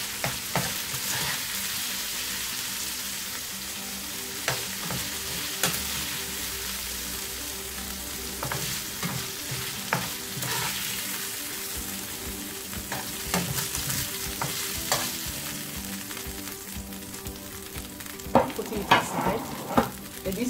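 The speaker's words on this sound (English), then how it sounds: "I'm frying my minced veggies." Minced vegetables stir-fry in a hot pan for chicken chow mein, with steady loud sizzling and crackling throughout and irregular scraping of the spatula stirring them, no voices.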